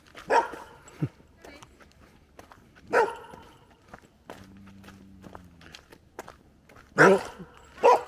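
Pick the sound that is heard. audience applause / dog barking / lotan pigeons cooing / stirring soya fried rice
dog barking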